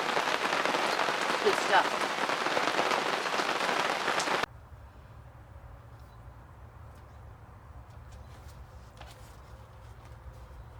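Heavy rain falls steadily on surfaces outdoors in the village of Watkins Glen, as a dense, loud hiss for about four seconds. It then cuts abruptly to a quiet low ambience, and a voice briefly speaks.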